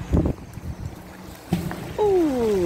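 A fishing magnet drops off a bridge into cold water with a short splashy plop, followed by quiet outdoor wind and a couple of rising and falling whistle-like tones near the end.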